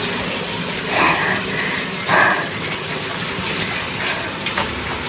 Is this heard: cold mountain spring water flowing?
yes